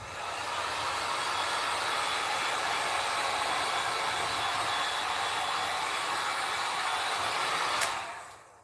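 A hair dryer blows steadily at close range to dry paint on homemade decor, a loud continuous rushing that runs unbroken for nearly eight seconds before switching off abruptly.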